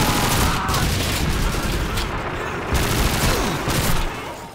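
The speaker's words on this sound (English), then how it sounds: "But at least you've got that brap gun" A submachine gun in the Soviet campaign of a Call of Duty game fires continuous loud bursts with dense rapid reports and battle noise, lasting about four seconds before cutting off.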